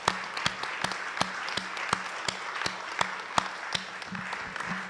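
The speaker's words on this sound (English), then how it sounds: "it certainly merits a round of applause, doesn't it?" An audience at the ClueCon 2024 conference breaks into a round of applause, steady moderate clapping with sharp, fairly evenly spaced claps throughout, no voices over it.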